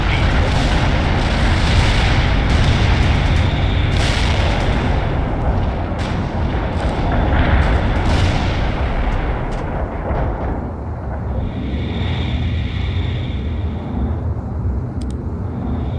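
Artillery barrage in World in Conflict, a Cold War Soviet assault battle, with dense, continuous booming explosions and rumbling blasts filling the scene at close range before easing slightly toward the end.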